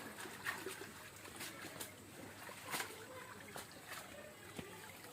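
Freshly harvested stem amaranth greens are washed in water, giving faint trickles and soft splashes with occasional sharper sloshes, with birds in the background and a quiet voice at times.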